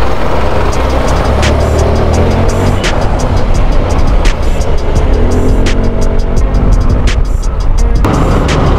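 A Yamaha MT10-SP motorcycle on a test ride, its engine droning loud and steady throughout with wind rush and a few sharp ticks, heard close from the rider's position.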